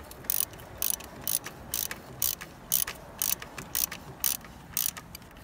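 Ratchet wrench tightening a fitting on a 2005 Nissan Altima 2.5 litre engine during thermostat and water valve replacement: a regular series of about a dozen close, sharp clicking pulls, evenly spaced.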